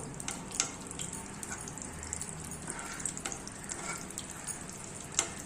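Broken cashew nuts are lightly roasted in a pan, producing a soft steady sizzle dotted with faint crackles and taps, with no talking.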